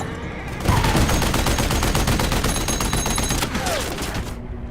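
Heavy gunfire from a steel tank in an action film, a loud and dense burst of rapid shots that keeps going for about four seconds, with no talking.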